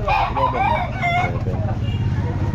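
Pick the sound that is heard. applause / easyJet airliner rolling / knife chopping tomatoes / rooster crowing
rooster crowing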